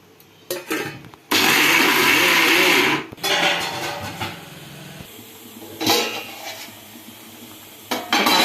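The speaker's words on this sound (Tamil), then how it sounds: "இதோட ரெண்டு பச்சை மிளகா கொஞ்சம் கருவேப்பில்லை கொஞ்சம் பூண்டு கொஞ்சம் இஞ்சி கொஞ்சம் சோம்பு எல்லாம் போட்டு கொஞ்சம் கரகரப்பாக அரைச்சிக்குவோம்" A mixer grinder whirs loudly in bursts, coarsely grinding green chilies, curry leaves, garlic, ginger and fennel for a kofta curry, with short pulses and rattling pauses between runs.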